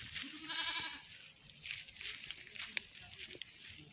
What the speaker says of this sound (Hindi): उस बकरी को देखिए मिट्टी खा रहा है